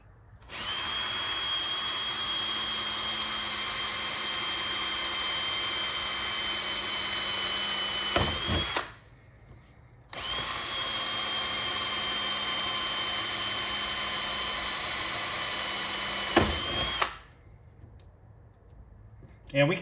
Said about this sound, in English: let's drill these little holes first